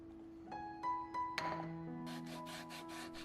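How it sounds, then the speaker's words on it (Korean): Sharp cut edges of a wooden toilet paper holder being hand-sanded: a few light knocks and rubs, then a run of rhythmic scraping strokes in the second half, close and moderately loud over a faint steady hum. "자르고 난 모서리 부분은 날카로우니 샌딩을 잘 해줘야 합니다."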